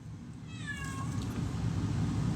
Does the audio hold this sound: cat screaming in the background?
yes